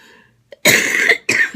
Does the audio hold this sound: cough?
yes